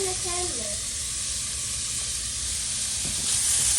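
Onion, fresh garlic and bell peppers sautéing in a hot pan for Karòt Blanchi, a loud continuous sizzling hiss that holds steady throughout and swells slightly at the end, with a brief voice at the start.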